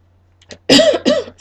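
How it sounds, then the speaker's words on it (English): A person coughs twice in quick succession, close and loud. The two harsh bursts follow a faint breath and are separated by a short pause. "Excuse me, I'm tired of this cough."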